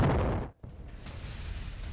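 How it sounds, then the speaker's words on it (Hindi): A Russian ammunition depot explodes with a loud, dense blast that roars and crackles, cuts off abruptly for an instant, then continues as a lower rumbling rush of fire and debris. "तो ये देखिए कितना जोरदार धमाका था।"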